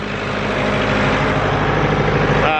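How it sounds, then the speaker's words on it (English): A sixty-year-old Ford tractor engine idles close by in a loud, steady, rumbling run that stays unbroken, with no voices. "We've got the Ford tractor out here running."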